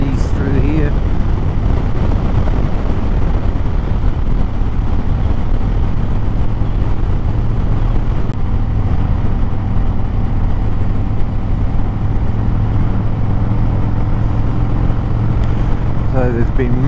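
A motorcycle rides through winding roads near Kaikoura on a South Island tour, its engine a steady close drone under heavy wind rush across the whole ride, with someone talking over it.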